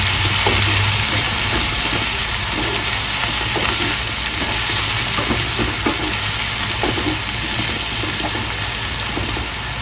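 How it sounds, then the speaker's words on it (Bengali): Chopped onions frying in a hot pan for Bengali-style doi chicken, a steady close sizzle with scraping stir strokes scattered through it and no talk. "পেঁয়াজটা ভালো করে একটু নাড়াচাড়া করে নেব।"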